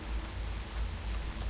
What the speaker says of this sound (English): it's been raining a lot in-game